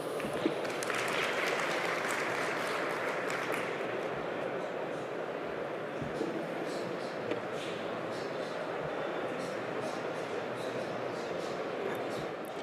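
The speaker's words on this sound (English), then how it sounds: "Please give her a big round of applause." An audience applauds steadily for several seconds at a conference on Korea's wind power industry, a dense, even wash of clapping in a large room, fading slightly toward the end.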